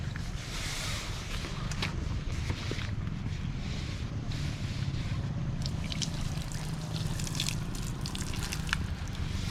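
Steady rain pours over a cold campsite near the Tanah Rata mosque, a dense, even hiss with scattered patters and drips running throughout, with no voices.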